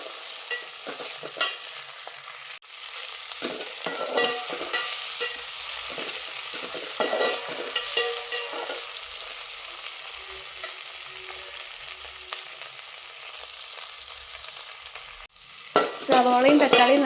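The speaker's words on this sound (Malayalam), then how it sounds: "നമ്മൾ സവോള അരിഞ്ഞതും പച്ചമുളക് മുറിച്ചതും ഇട്ടിട്ടുണ്ട്. ഇത് നന്നായിട്ട് വഴറ്റിയെടുക്കാം." Chopped onion, green chilli, tomato and curry leaves sautéing in a pan for chicken biryani give a steady, close sizzle with continuous stirring scrapes, ending in a louder clatter.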